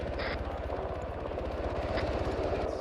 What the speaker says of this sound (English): We got enemy helicopter coming in from the south.